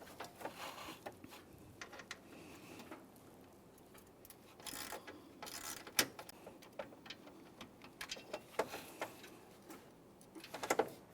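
A 10mm ratcheting wrench loosens a mounting bolt on a 2015-2020 Ford F-150 3.5L during AC condenser replacement, making faint, close, irregular ticking clicks in short runs.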